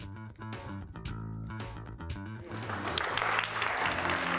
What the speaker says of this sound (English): The applause is for the winners of the 2018 Osseo District 279 Art Show